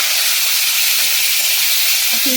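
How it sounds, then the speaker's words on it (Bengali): A steady, loud sizzling hiss of shrimp frying in a little hot oil runs throughout, with a faint clink near the end. "আগে আমি চিংড়িটাকে ভেজে নেব"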